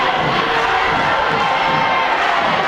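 A crowd at a sectional high school wrestling match cheers and shouts continuously, loud and dense, with yells rising out of the roar throughout.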